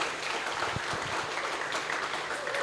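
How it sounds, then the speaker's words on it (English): Audience applause following a guest lecture on social media and mental health, a dense steady wash of clapping from a room of listeners that holds at an even level for a few seconds. "Give applause for Nino for the presentation."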